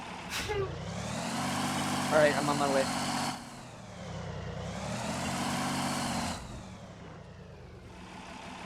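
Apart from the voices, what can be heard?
truck engine in Arma 3 video game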